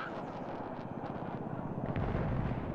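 Artillery fire in the Broken Arrow video game: a low, rumbling barrage of distant booms that rolls on continuously and swells slightly toward the end, with faint sharper cracks scattered through it.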